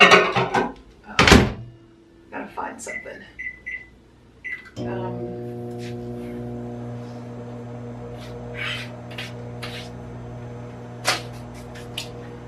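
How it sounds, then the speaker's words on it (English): A microwave door clunks shut, a few button beeps chirp, then the oven hums steadily; a voice speaks briefly and a louder beep rings out near the end. "I'm going to put these in the microwave, hopefully not creating too much noise."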